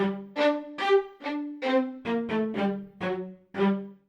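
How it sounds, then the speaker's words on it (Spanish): Short, detached staccato string notes from a sample library preset played in a quick uneven rhythm, about a dozen plucky chords, close and clear with no speech. "un preset con articulaciones de notas cortas, que suena así"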